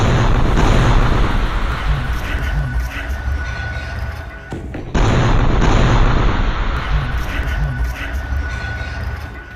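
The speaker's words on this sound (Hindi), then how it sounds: "ये बुलडोजर अचानक फट जाता है, जिसमें बहुत बड़ा धमाका होता है" Massive explosion of a bulldozer at night during a wartime attack, with loud sustained roaring blasts and rumbling debris, then a second heavy boom partway through.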